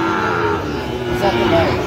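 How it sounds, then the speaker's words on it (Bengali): A Sahiwal bull moos at a cattle market in Dinajpur, a loud, close, sustained low bellow amid market noise. "শাহিওয়ালের ষাঁড় আমরা দেখছিলাম"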